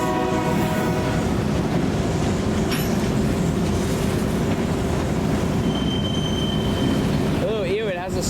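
A freight train rumbles past at close range with a continuous wheel squeal and steady rolling noise, a brief high screech near the end.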